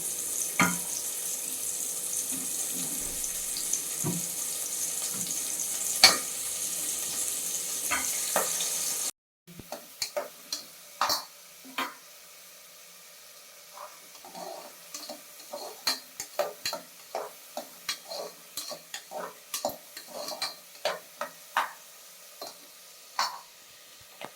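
Onions and tomatoes frying in a pan for mutton salna, a steady sizzle at first, then a quieter stretch of irregular spoon scrapes and clicks against the pan.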